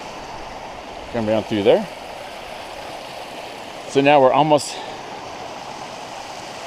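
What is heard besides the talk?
creek flowing over a small waterfall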